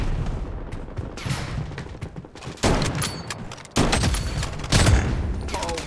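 Gunfire in the mobile shooter Project BloodStrike crackles in dense bursts, with several loud volleys and booms rising over continuous game noise and battle clutter.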